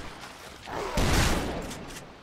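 A gunshot in the video game Dead Island Riptide booms about a second in, a burst that swells and then trails off over roughly a second.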